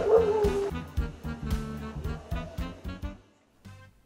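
Ten-day-old sled dog puppies at Denali National Park yip and whimper in short, high, overlapping bursts close by, with a brief quiet gap near the end before a last few cries.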